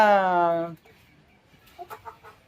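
Kilimookku, Visirivaal and Kanni game roosters call with a long, loud drawn-out note that slides downward, followed after a pause by a few short, softer clucks.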